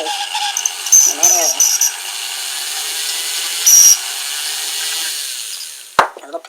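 A power rotary tool grinds a small recess for the ear into a sculpted head during press-mold modeling, a steady close whine with brief louder bursts and a sharp knock near the end.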